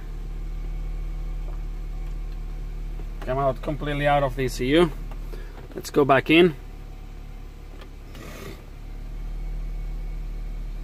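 A 1.8 TFSI engine in an Audi A5 idles steadily with a low continuous hum throughout, while someone talks over it in the middle.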